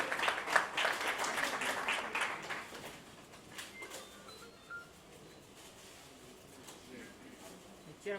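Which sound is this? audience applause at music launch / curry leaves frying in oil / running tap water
audience applause at music launch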